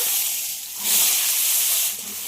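Potato pieces fry in hot oil with spices, giving a steady close sizzle and hiss that swells briefly partway through, with no voices.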